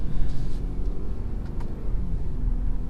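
A 2018 BMW X3 30i rolls along a road with a low, steady engine rumble and road noise as it drives and shifts down through the gears, with faint brief clicks over the hum.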